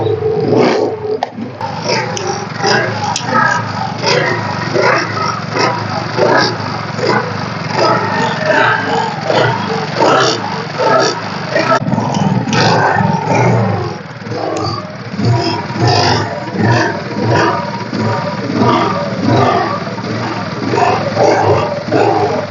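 A used Hero Splendor Plus motorcycle at a bike market in Coimbatore, its engine self-started and idling with a steady rough putter, loud and close, mixed with background chatter and street noise.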